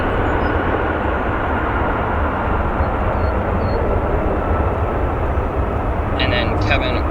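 Boeing 777 aircraft at O'Hare airport, a steady loud jet engine roar that holds constant throughout, with faint brief chirps near the end.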